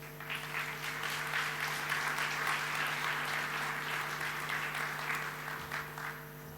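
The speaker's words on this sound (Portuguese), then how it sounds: "Uma salva de palmas." An audience at an opening ceremony for a European funds exhibition applauds steadily and fairly loudly for several seconds, a dense continuous clapping over a faint hum.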